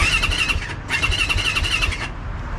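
Yamaha YZ450F dirt bike engine with a clogged fuel supply, running rough and near, with a harsh, uneven mechanical drone that cuts out briefly and picks back up before fading.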